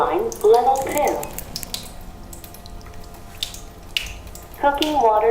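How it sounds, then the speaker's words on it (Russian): Cooking-level water streams from a water ionizer in a soft, continuous trickle, with voices talking briefly at the start and end. "Cooking water comes out."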